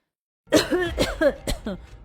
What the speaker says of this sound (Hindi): धुएं में खांसते हुए